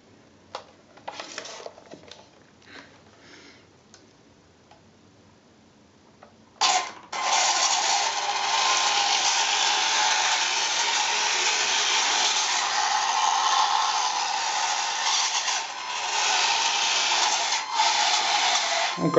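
Heng Long radio-controlled model on a 40 MHz set: a few faint clicks and taps at first, then at about seven seconds a loud, close, steady electric motor whir starts and runs to the end with slight wavers.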